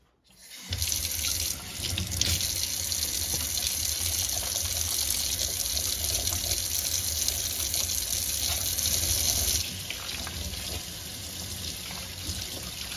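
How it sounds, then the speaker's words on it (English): A kitchen tap gushes water into a sink during hand washing, a loud, steady rushing stream that starts abruptly and drops slightly in level near the end. "Now, I'm going to wash my hands before I go any further,"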